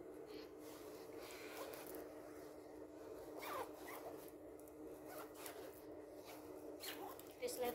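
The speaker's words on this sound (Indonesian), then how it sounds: "Oke, kita tes resleting." A clothing zipper on a child's garment being tested, quick raspy zips running up and down several times, faint and close against a steady background hiss.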